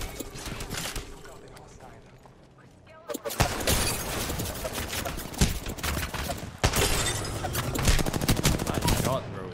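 Rapid gunfire in the battle royale game Apex Legends, bursts of automatic shots crackling over a noisy match mix, growing louder and denser in the second half, with players talking over it.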